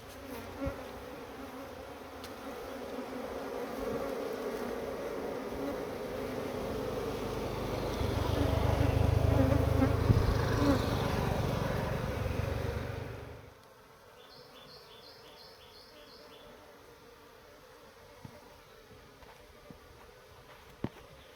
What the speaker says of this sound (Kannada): ಇದರಲ್ಲಿ ಜೇನು ಕೂಡ ಇದೆ ಮೊಟ್ಟೆ ಮರಿ ಕೂಡ ಇದೆ